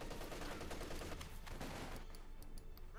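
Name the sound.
Sten gunfire in video game Company of Heroes 2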